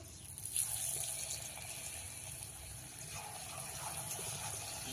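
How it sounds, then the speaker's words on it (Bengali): Radish pakoras coated in gram flour batter go into hot oil and fry with a steady, even sizzle that fills the whole stretch at low volume. There is no talk. "এবারে দেখো ছাড়বো তেলের মধ্যে"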